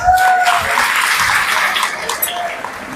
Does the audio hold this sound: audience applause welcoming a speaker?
yes